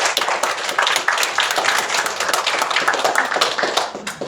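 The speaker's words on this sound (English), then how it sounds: "Shall we give the Lord a round of applause this morning?" A church congregation claps steadily through a Sunday morning service, a dense run of hand claps filling the room with fairly loud, even rhythm and no talk over it.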